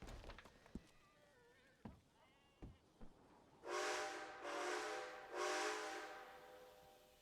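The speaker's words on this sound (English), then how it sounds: "maybe they'll hear the whistle." A steam locomotive whistle in a Western roleplay video game sounds three long, fairly loud blasts with short gaps between them, following some quieter thumps and faint clatter.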